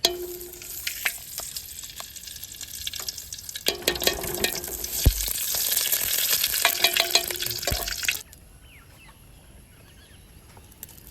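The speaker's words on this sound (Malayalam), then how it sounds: "അതിന് വേണ്ടിയിട്ട് നമ്മൾ 2 ടീസ്പൂണ് നെയ്യ് ഇട്ട് കൊടുക്കണം കേട്ടോ." Two teaspoons of ghee heat in a pan for Thalassery dum biryani rice, crackling and sizzling close by. The sizzle builds into a dense spitting patch for several seconds, then drops to a quieter hiss.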